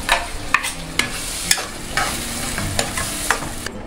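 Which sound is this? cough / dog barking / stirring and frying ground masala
stirring and frying ground masala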